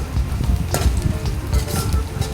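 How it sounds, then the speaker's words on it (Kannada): Onions fry in a pan alongside curry leaves and chilies for a quick tomato rasam, a loud, dense crackling sizzle that keeps going close up throughout without any talk. "ಮತ್ತೊಮ್ಮೆ ಫ್ರೈ ಮಾಡಿ ಈಗ ಈರುಳ್ಳಿ ಫ್ರೈ ಆಗಿದೆ."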